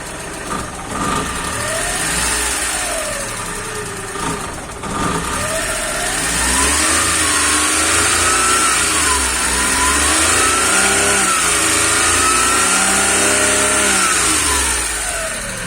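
A carbureted Suzuki F6A car engine, just after a top overhaul, idles and then revs repeatedly. Its pitch rises and falls in waves, loud and close, with no talking.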